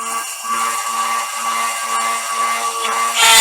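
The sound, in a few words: power drill drilling stress holes in a bell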